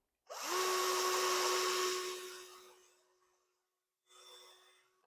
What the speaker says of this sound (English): you drill a hole through the center of your board